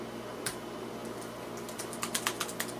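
Light tapping on an iPad's glass on-screen keyboard, a sparse scatter of soft taps early on and then a quicker run of about six crisp taps near the end, close and quiet, with no talking.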